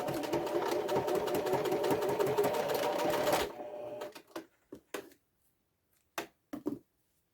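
Sewing machine running a flat stitch along turned-in fabric edges for a wine bottle gift bag, a steady rapid needle chatter for several seconds that stops abruptly, followed by a few soft handling clicks and knocks.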